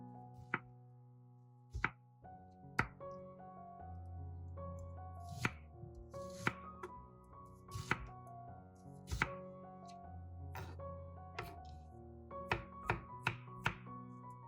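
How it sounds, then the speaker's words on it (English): A knife chops half an onion finely on a board, giving irregular sharp taps and thunks close by, with tonal background music running underneath. "slice the onion thinly or chop it finely"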